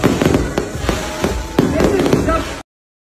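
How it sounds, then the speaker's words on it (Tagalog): Fireworks burst repeatedly at a birthday celebration, a dense crackling roar with sharp pops that runs loud throughout and then cuts off abruptly. "sabay sa pagputok ng fireworks."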